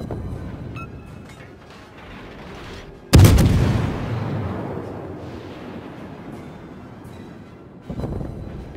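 HMS Belfast's naval guns in World of Warships let off one sudden loud booming salvo that rolls away into a long rumble over steady engine and sea noise, and a smaller thud follows near the end.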